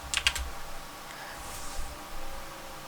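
A short burst of keystrokes on a computer keyboard, a quick cluster of close clicks followed by a few softer taps, with quiet room noise between.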